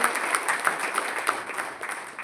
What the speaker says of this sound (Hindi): एक बार जोरदार तालियों से फिर से अभिनंदन करेंगे